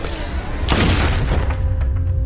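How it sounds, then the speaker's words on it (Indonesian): A gunshot in a brutal revenge film, heard as one loud booming blast with a sharp crack and a short decaying tail. "Leon pun menembak istri Jack hingga tewas"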